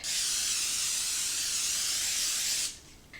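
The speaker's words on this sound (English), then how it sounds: "What we're going to do is spray this with some cooking spray." Cooking spray from an aerosol can hisses steadily onto plastic wrap for about two and a half seconds before cutting off, loud and close with no talk.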